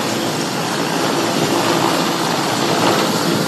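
A Ghana Air Force Mi-17 helicopter hovers while troops fast-rope down at an independence anniversary parade. Its loud, steady, broadband rotor and engine roar fills the whole stretch without a break.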